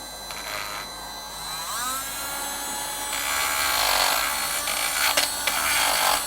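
A Sealey CP1207 12V rotary tool runs at high speed and grinds against a surface, giving a steady whine with rising, scratchy grinding passes and a few sharper bursts near the end.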